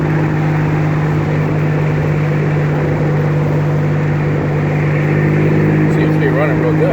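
A 1953 Jaguar XK 120 on old bias-ply tires drives along a cold road with a loud, steady engine drone and road roar inside the cabin, while people talk over it.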